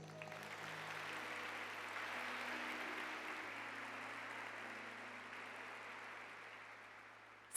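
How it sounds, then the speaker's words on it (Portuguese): Soft, distant congregational applause during a church sermon, a steady wash of clapping that gradually thins toward the end, with a low hum beneath. "Vamos aplaudir isso?"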